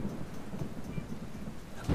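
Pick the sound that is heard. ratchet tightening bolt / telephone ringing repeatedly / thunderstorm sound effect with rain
thunderstorm sound effect with rain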